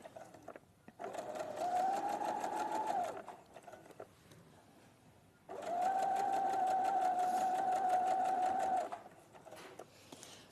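Sewing machine stitching along a seam on a blouse, running in two steady whirring bursts of a few seconds each with a short pause between, close and clear with no talking.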